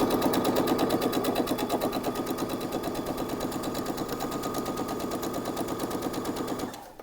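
A sewing machine runs in a fast, even rattle while stitching a trouser seam, close and steady for several seconds before stopping abruptly.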